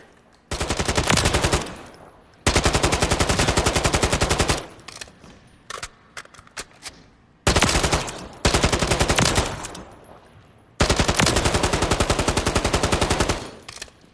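Zenitco AKS-74U rifle firing 5.45x39mm in Call of Duty Modern Warfare III: loud, close bursts of rapid automatic fire, some long and sustained, others short, separated by brief pauses with a few single shots.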